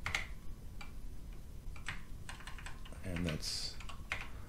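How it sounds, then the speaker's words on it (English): Fingers tap on an Apple II computer keyboard in irregular clicks with close, crisp keystrokes and brief pauses, while someone says a few words partway through. "oh boy, I'm having fun typing."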